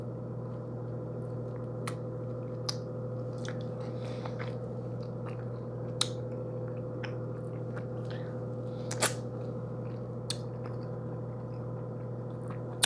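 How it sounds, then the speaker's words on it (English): Soft, sparse crunches and wet bites of someone eating fresh mango at close range, scattered over a steady low background hum, with no talking. "Mango mukbang."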